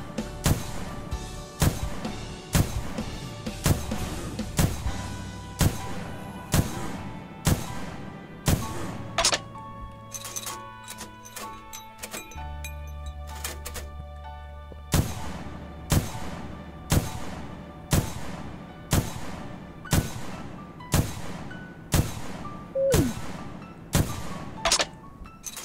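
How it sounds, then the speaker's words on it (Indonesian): Video game gunfire goes off in steady repeated sharp thumping shots over a droning game soundtrack, with a short lull midway before the regular shots resume. "Nah, saya tembak lagi."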